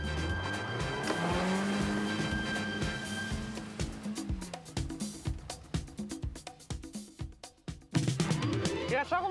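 A Ford Escort station wagon driving off-road and sliding, with a steady engine roar giving way to rapid crunching bursts from the tires as it skids over rough ground, close and loud, a voice speaking briefly.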